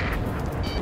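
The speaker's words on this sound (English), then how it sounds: "Missile." A missile explosion in the Ace Combat 7: Skies Unknown video game makes a dense, steady rumbling roar that fills the whole brief moment, without talk.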